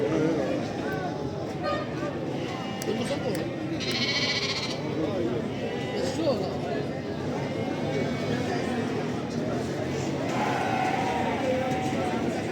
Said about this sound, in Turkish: Bunlar da kuzulardı.